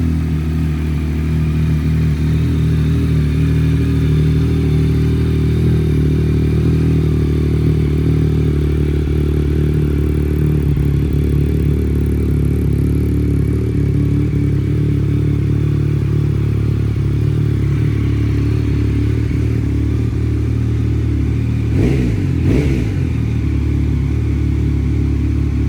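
Yamaha MT-09 motorcycle with the exhaust baffle removed, engine idling with a deep, loud, continuous rumble close by and a brief rev with clatter near the end, no talk.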